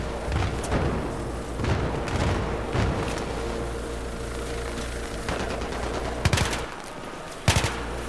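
Sustained gunfire in the video game Battlefield 3, with dense overlapping shots and loud, sharp bangs breaking through a continuous roar of combat, close and intense throughout.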